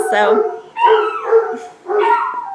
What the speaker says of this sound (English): This is what happens when my husband gets home. The dogs are just go crazy.